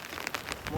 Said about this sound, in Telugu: వాన మామూలుగా అక్కలేదు ఇక